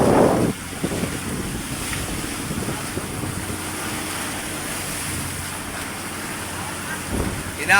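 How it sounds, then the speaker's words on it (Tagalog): Steady wind roars over rushing water and crashing waves, a continuous wash of noise as a boat moves across a rough Pacific Ocean. "Kaya malalaki na rin ang alon."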